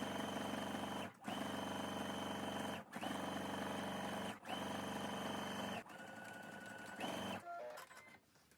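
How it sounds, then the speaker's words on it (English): Sewing machine running a straight stitch through bag fabric, steady loud whirring in several long runs separated by short pauses, slowing and stopping at the end. "Now we're going to sew a straight stitch from this end to this end with 1/2 inch seam allowance."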